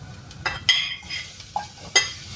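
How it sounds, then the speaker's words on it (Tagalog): Chicken added to a hot pot for arroz caldo, a soft sizzle under several sharp metallic clinks and scrapes of a spoon stirring against the pot. "Next is ilagay ko na yung aking chicken"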